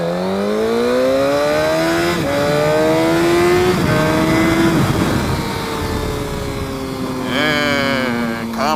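A 600cc or 1000cc sport motorcycle revs hard and accelerates on the street, engine pitch climbing through several gear changes, loud and close throughout, then easing off near the end.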